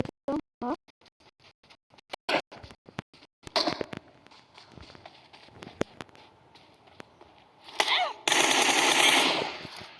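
Machine gun fire in an online shooter game, with rapid bursts of crisp shots, intermittent single cracks and a dense, loud volley near the end, alongside faint footsteps and brief speech.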